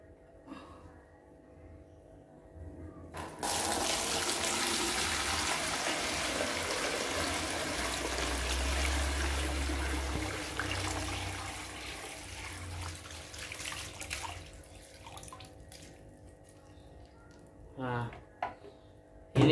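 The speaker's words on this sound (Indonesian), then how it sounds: "langsung kita tuang aja ikan cana limbata WC-nya yang ada di dalam galon ini guys" Water and Channa limbata snakehead fish poured out of a gallon jug indoors: a steady, loud gush of splashing water runs for about twelve seconds, then tapers into a few softer trickles and drips.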